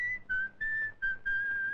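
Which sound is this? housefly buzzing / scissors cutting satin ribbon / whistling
whistling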